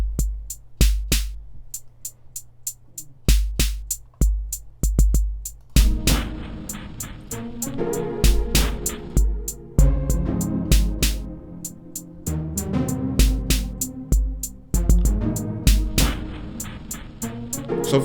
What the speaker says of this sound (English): what it'll do is give you a drum rack with generic synthesized drums